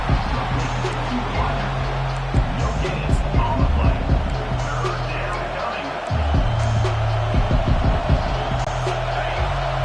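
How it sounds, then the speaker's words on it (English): Football stadium crowd at a College Football 25 game, a steady broad roar that swells in waves under continuous play-by-play commentary. "This crowd rising up, sensing that its defense needs some help"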